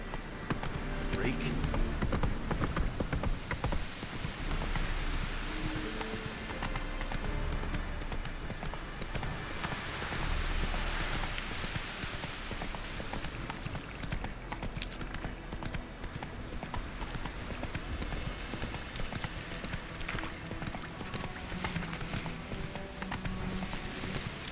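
In The Witcher 3 video game, Roach the horse gallops with steady rhythmic hoofbeats, a continuous clip-clop carrying under ambient game sound and a voice speaking.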